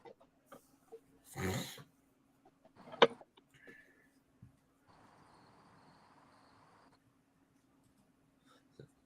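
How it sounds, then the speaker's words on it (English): A rooster crows faintly and at a distance near a beekeeping yard, with a few soft knocks and a short stretch of hiss around it. "That's the third shift rooster, Keith said."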